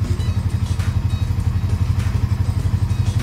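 A Honda TRX350 ATV runs with its cooling fan going, giving a steady low rhythmic pulsing hum and light mechanical clatter, close and continuous with no talk.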